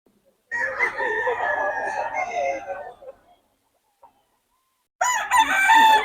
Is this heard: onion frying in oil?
no